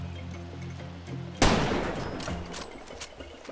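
Gunfire in the video game Far Cry 2: a sharp, loud burst of shots strikes suddenly, trailing into a rumbling echo with a few fainter pops after it, and no talking over it.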